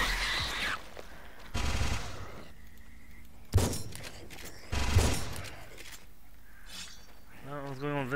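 Gunfire in the first-person shooter Project Warlock 2, several loud bursts of rapid shots a second or so apart, up close and sharp, with a voice talking between and over them.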